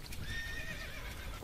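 A horse whinnies in a period drama countryside scene, with hoof clip-clop approaching at moderate distance, a short, fairly faint passage with no speech.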